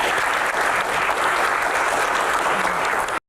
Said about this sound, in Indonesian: tepuk tangan untuk dokter